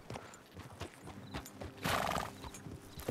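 Quick, close clip-clopping hoofbeats of a horse in motion in Red Dead Redemption 2, with a short snort or whinny partway through.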